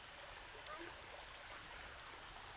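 A forest stream of water flowing, heard as a faint, steady broadband rush with soft trickling detail and no clear voices.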